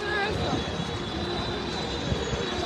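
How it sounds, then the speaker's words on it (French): Steady engine drone of a helicopter overhead during a riot in Brussels, continuous and fairly loud, with faint voices underneath. "Alors, l'hélicoptère est au-dessus."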